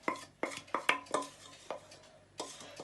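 Metal spoon scraping sticky marshmallow mixture out of a saucepan into a baking tin, a run of sharp scrapes and knocks, close and fairly loud with short pauses between them, no talking.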